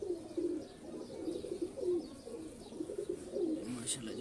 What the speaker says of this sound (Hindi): ये बेसिकली छठों वाले कबूतर हैं